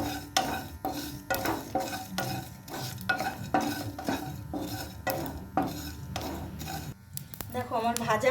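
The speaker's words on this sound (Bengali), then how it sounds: "গ্যাসটা আস্তে দিয়ে এটাকে ভেজে নিতে হবে।" Spices dry-roasting in a pan over a low gas flame, stirred with steady, repeated scraping strokes close by, with a faint sizzle underneath.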